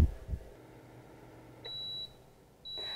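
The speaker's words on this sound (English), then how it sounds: "So in 10 minutes, the timer will go off and we'll flip them." A kitchen timer goes off while chicken breasts cook, giving two short, high electronic beeps in a quiet room after a couple of soft thumps at the start.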